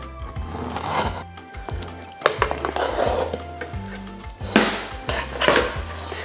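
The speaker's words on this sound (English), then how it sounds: "with the help of this spatula" A metal spatula scrapes and clanks against a pan while lifting out a Chicago style deep dish pizza, with repeated rough scraping strokes and sharp knocks, fairly close, with no talking.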